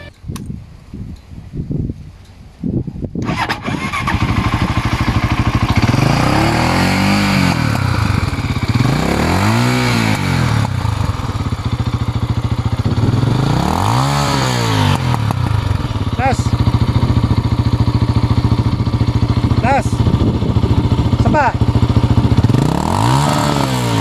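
A 2022 Motorstar Cafe 400 motorcycle runs loud and close, its engine rising and falling through several revs over a steady idle after a brief start, with someone talking over it.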